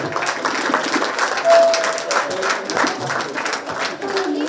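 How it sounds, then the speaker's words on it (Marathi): An audience claps at a music school's award ceremony. The applause is dense and steady throughout, with voices and faint tones mixed in. "सगळ्यांनी टाळ्यांचा आवाज जोरदार येऊ द्या"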